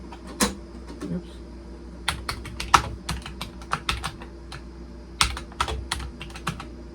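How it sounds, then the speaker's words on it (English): Clicks of a computer keyboard in uneven bursts of typing, close and fairly crisp, with short pauses between keystrokes and no talking; a Vendex Headstart Turbo 888 XT computer keyboard. "I'm going to try to not talk during the typing because I want to really allow that keyboard sound to come through."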